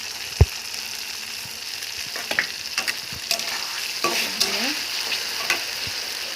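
Diced tomatoes drop into a pan of spiced jackfruit curry with a sharp thump, followed by steady bright sizzling and scattered stirring scrapes, close and continuous with no voices.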